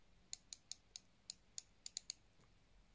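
Unidirectional diver's bezel on a heavy Steinhart Triton watch being turned, giving about ten crisp, sharp clicks at an uneven pace, close and alone against a quiet background.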